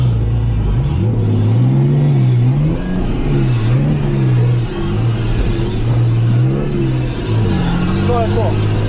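The engine of an off-road rally car at a Serbian trophy event revs and accelerates loudly and close, its pitch rising and falling in surges. Voices talk over the roar.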